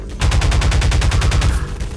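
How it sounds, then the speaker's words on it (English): Pulse cannon gunfire in Half-Life 2 sounds as a rapid automatic burst, about a dozen sharp, evenly spaced shots rattling loudly close by for almost two seconds. "Got our pulse cannon."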